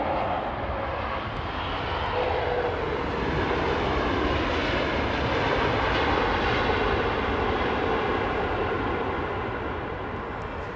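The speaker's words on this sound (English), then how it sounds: "Beautiful Malaysian 350, constant flare." A Malaysia Airlines Airbus A350 with Rolls-Royce Trent XWB engines landing at London Heathrow, giving a steady, loud, broad jet roar that holds level through the approach and flare with no voices.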